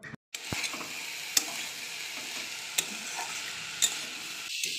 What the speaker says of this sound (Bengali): তেল দিয়ে কালো জিরে কাঁচা লঙ্কা দিয়ে দিয়েছিলাম